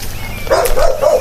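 A dog gives a few short, muffled barks and whimpers at close range, in a house where police have found an animal left separated and neglected.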